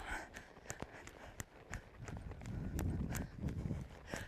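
A horse trotting under a rider, hooves striking the ground in a steady, fairly close clip-clop rhythm of sharp, regular hits over low background rumble.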